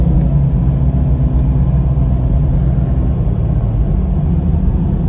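A 1999 Jeep Cherokee XJ is driven, heard from inside as a steady, loud low engine rumble and road drone that holds even throughout with no clear gear changes and no talk.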